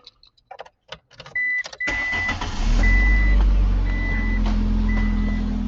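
Car engine with fuel injection runs at a steady, loud idle after a few knocks and beeps, its low rumble holding on without any clear cutoff.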